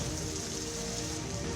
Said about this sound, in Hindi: धर्मशाला में बारिश रुकने का नाम नहीं ले रही